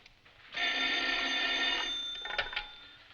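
In an old Green Hornet radio serial, a telephone bell rings steadily for over a second, a bright sustained trill, then cuts off into a few small clicks.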